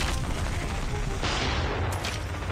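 Test-firing a gun in a shooter video game, a close, dense burst of rapid gunfire with booming low thuds, continuous over a couple of seconds and loud throughout.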